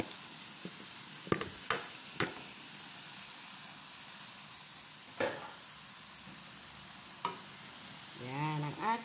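Mushrooms and vegetables for chop suey being stir-fried in a pan, with scattered scraping clacks of a utensil over a soft steady sizzle, ending in a brief burst of louder frying near the close.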